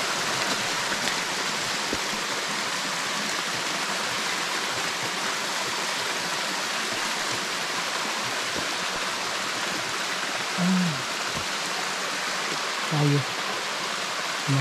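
A forest waterfall flows over rocks deep in the jungle, a constant broadband rush of water with no pauses and a few faint knocks, no talking.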